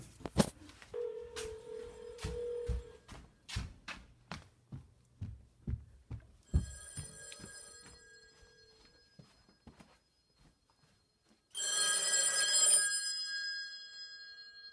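A telephone calls in through a C*NET inbound gateway and rings. Clicks and dialing pulses come first, then a series of separate ringing bursts, with one loud, dense bell burst near the end.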